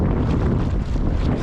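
Steady, loud wind buffeting the microphone, a constant low roar with no pauses, like gusts sweeping over open water.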